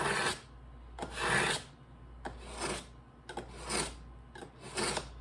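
Knife blade drawn across the fine side of a sharpener, giving five rhythmic rasping strokes close by, each a short scraping sweep separated by brief pauses, with no talk.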